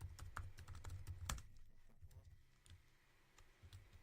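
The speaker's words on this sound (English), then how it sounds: "I will enter the password" A password is typed on a computer keyboard: a quick run of faint, close key clicks in the first second and a half, then a few scattered taps in a quiet room.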